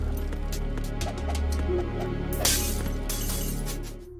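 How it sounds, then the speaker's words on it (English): Bottles behind the bar on the Metal Gear Solid 2 tanker burst under gunfire, a loud glassy crash with tinkling debris midway, layered over continuous game music and ambience. "Shatter the bottles behind the bar."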